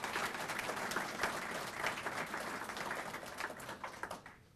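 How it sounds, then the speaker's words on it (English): An audience at a hospice community event claps for a Joliet West ROTC group, a dense round of applause that holds steady and then tapers off at the end. "I'll give them a round of applause"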